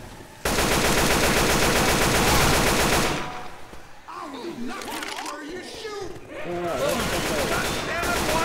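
Rapid automatic gunfire in the zombie shooter Left 4 Dead 2, a loud sustained burst for a few seconds, then a pause filled with shouted talk, before firing resumes.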